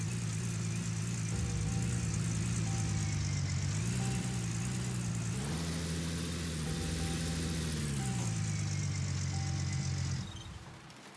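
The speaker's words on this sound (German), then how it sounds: "Motor müssen wir noch anmachen." A game truck in Gold Rush: The Game starts up and then idles steadily, a loud, even engine hum with shifting pitch that keeps going for about ten seconds before stopping abruptly.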